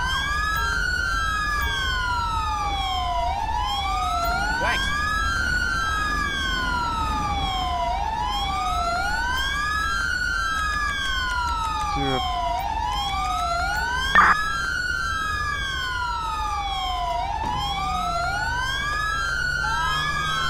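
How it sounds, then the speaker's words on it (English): Several police car sirens in the video game LSPDFR wail, rising and falling continuously in overlapping cycles, loud and close, with a couple of brief clunks partway through. "turn off the sirens"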